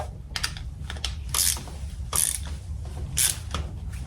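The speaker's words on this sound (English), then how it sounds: "And torque that down to spec." A ratcheting torque wrench tightens a foot peg bolt on a Kawasaki Ninja ZX6R, giving several short bursts of clicking with pauses between them, close and fairly quiet.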